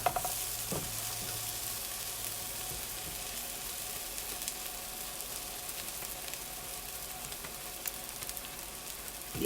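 Salisbury steak patties sear in a hot pan with a continuous, dense sizzle that holds steady and close throughout, with a soft clunk near the start.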